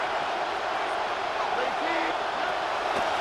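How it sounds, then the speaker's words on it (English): Football stadium crowd on third down, a steady wide roar of noise held at an even level for a few seconds, with a commentator talking over it. "This crowd into it now as we get to third down"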